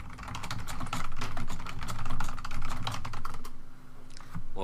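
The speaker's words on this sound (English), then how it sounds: "We'll listen to Bandit click away on the keyboard" Computer keyboard during an esports match, a busy, continuous rattle of close clicks and key presses, no voices.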